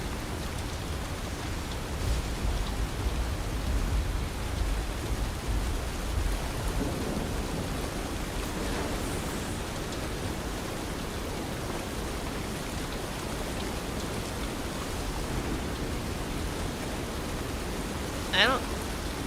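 Steady heavy rain with rumbling thunder in a storm in the game South of Midnight, a constant dense hiss throughout, loud and even, with a brief sharper crack near the end.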